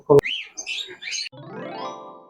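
Close, bright cockatiel chirps and squeaky calls in quick short bursts, after a sharp click, then a harmonic whining cry toward the end.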